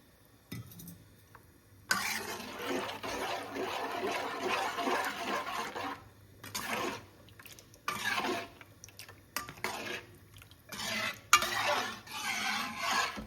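Water poured into rice mixed with curd and salt, then stirred in a bowl: bursts of wet scraping and sloshing, close and fairly quiet, stopping and starting in short spells.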